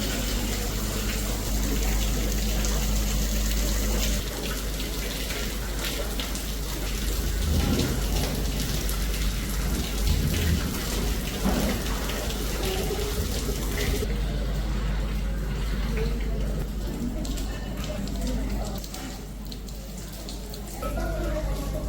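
Heavy rain pours steadily during an Onam shoot at an outdoor location, a dense, continuous wash of water that holds the same loudness throughout, with no voices in it.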